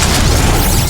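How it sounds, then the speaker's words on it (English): A structure blowing up in The Riftbreaker: a single loud, dense boom with heavy low rumble and crackling debris fills the whole brief moment, with no voices. "An energy connector has been destroyed."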